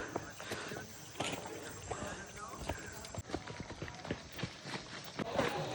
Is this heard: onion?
no